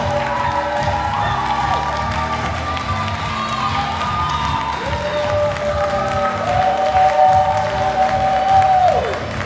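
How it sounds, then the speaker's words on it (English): Audience applause and cheering for an honoree at a community event, sustained clapping and shouts, with music playing underneath. "Let's give him a round of applause and celebration for Dr."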